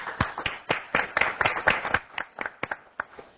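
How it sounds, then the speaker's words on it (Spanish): A small group claps for a few seconds, distinct hand claps in an uneven rhythm, fairly close and not very dense. "Los recibimos con un aplauso"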